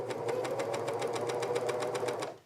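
A sewing machine with a slightly cranky, worn needle stitching knit fabric for a Sydney dress, running steadily in a fast even rhythm of needle strokes, close and alone, then stopping.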